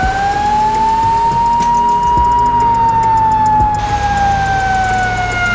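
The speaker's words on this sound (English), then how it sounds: "Gotta turn our siren on here." Fire truck siren in the GTA V LSPDFR video game, a loud steady wailing tone that rises and falls slowly and runs continuously throughout, with traffic rumble underneath and no talk.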